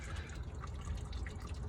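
Antifreeze coolant drains from a 2015 Honda Civic into a catch pan, a soft, steady trickle with faint drips over low background noise.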